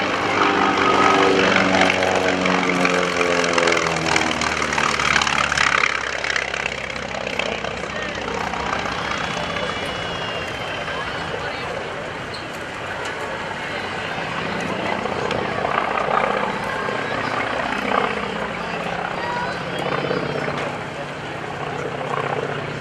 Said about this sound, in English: Here's the last pass of the Wildcat with Greg Shelton from Collinsville, Oklahoma